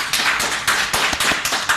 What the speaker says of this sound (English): I'm applauding myself.